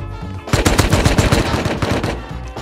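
Rapid automatic AK rifle fire in the survival game Rust, a loud sustained burst of closely spaced shots lasting about two seconds after a brief quiet start, with no talking.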